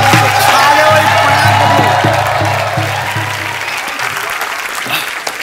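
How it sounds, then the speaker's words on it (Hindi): A studio audience on The Kapil Sharma Show, a comedy talk show, gives actor Jimmy Shergill loud, sustained applause with cheers and whoops over a low musical backing that drops out partway, the clapping then slowly thinning. "सो एक बार जोरदार तालियां हो जाएं handsome and versatile actor Jimmy Shergill के लिए।"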